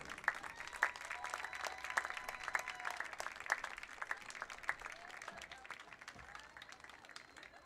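Crowd applauding at a high school girls' soccer senior night ceremony as balloons are released, steady clapping from a sizable group with scattered sharper claps and cheers, moderately distant and continuous throughout.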